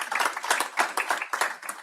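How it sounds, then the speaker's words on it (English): Brief round of applause at a school board meeting, a small group clapping with distinct uneven bursts of individual claps, fairly close and lively. "That deserves a round of applause"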